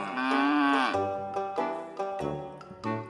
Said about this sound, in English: The cow is making the noise.